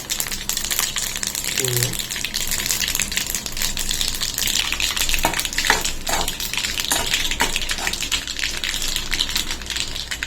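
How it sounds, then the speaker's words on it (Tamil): Mustard seeds fry in hot oil in a pan as a steady, even sizzling hiss that runs throughout, with faint crackles and a brief voice in the background. "எண்ணெய் எல்லாம் சூடானதுக்கப்புறம் கடுகு போட்டுக்கோங்க"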